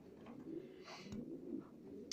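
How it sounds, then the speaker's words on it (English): Pigeons coo softly in a breeding loft, low murmuring calls overlapping faintly under a quiet background with a few small rustles. "All pigeons in here are up to 10 years old that have been paired"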